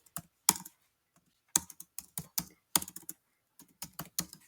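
Close, crisp typing on a computer keyboard comes in quick bursts of clicking keystrokes separated by short silences, with no voices.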